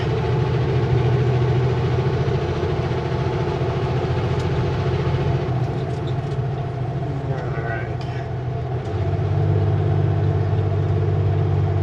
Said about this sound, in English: Engine brakes on full, fan on